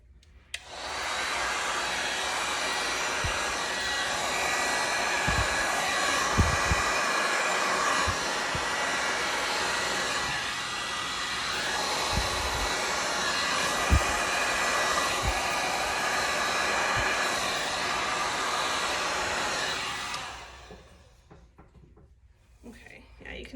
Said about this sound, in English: you can see how much those move it, that heat gun